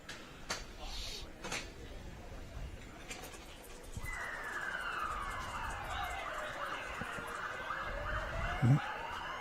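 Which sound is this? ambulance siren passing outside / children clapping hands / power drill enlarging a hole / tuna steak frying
ambulance siren passing outside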